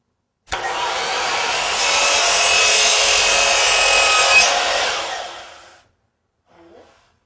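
DeWALT miter saw fitted with the DW7187 adjustable laser system cutting crown molding laid flat: one loud, close, whining cut lasting about five seconds, then a brief spin-down and a faint final tap.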